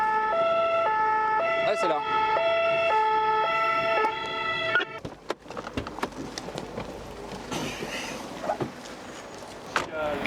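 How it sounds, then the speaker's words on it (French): A Red Cross ambulance in Paris sounds its unusual siren, a loud, steady alternating two-tone wail that cuts off after about five seconds. Street traffic and a brief exchange of voices follow. "Ils ont une sirène exotique, hein, la Croix-Rouge."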